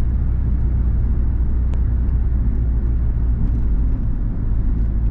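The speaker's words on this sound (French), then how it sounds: "la voiture, elle aime être conduite entre 1500 et 2200 tours, 2300 tours" A 1992 Renault 21 Manager turbo diesel cruising at low revs, heard from inside as a loud, steady low rumble of engine and road noise with no talking.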